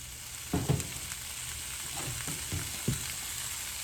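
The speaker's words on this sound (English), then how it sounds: "Next, we're gonna add in our steak. Slide that off in there." Steak and scrambled eggs sizzle in a skillet with a steady, soft frying hiss, broken by a few scraping stirs and bumps from a utensil, close and alone.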